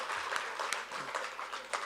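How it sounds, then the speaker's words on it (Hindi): Audience applause at a Hindi comedy poetry gathering (hasya kavi sammelan), a brief, fairly faint patter of many hands clapping continuously for under two seconds. "एक बार मुझे तालियों से अनुमति दे दीजिए"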